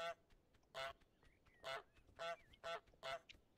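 Repeated goose honks from Untitled Goose Game, six loud nasal calls spaced about half a second apart, with faint chirps and quiet game ambience between them.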